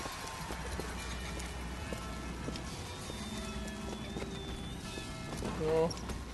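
Mechanical electric horse hooves clip-clop in the street scene of the video game Bioshock Infinite, a faint steady trot under background ambience and someone talking, with a brief rising chime near the end.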